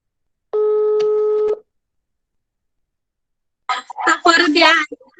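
A telephone call to emergency services: a steady busy-signal tone holds for about a second, then after a pause a voice speaks close by.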